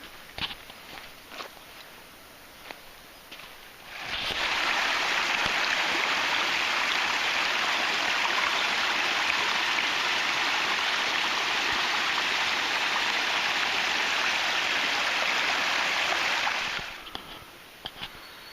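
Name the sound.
creek mouth stream flowing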